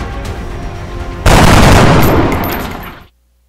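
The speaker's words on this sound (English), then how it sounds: "Kimberly does have a clear rocket shot. And so, Jason fires." A rocket launches in the X-Com tactical strategy game: a low rumbling hum gives way to one loud, sudden blast whose roaring burst holds for nearly two seconds before cutting off, heard alone without talk.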